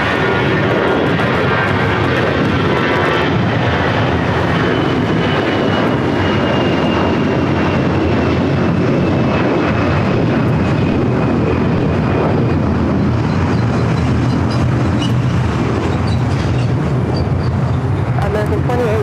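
American Airlines jet taxiing at LAX, a loud continuous engine roar with steady whine held throughout, close and unbroken.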